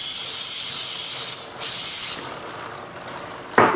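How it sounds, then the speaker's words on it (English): Chain cleaner sprays loudly onto the chain of a Rawrr Mantis X Pro electric motorbike as the wheel turns: a long hissing burst, a short second burst, then quieter hiss and a brief final spurt. "Rotate the wheel as you spray the cleaner on."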